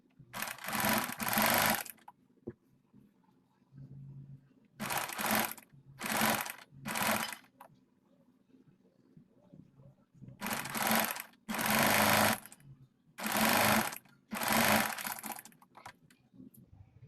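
Sewing machine stitching pintucks into trousers, running in short repeated bursts of rapid mechanical whirring, each a second or so long, separated by quiet pauses.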